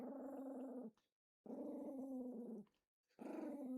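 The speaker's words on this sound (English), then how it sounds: "Jojo, if you're gonna stay just growling like that, that's more or less okay, because we can drown that out." A dog growls in three long, low, sustained rumbles separated by brief pauses, close and steady, with no talking.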